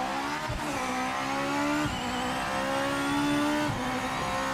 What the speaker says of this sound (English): God, this car sounds so vicious.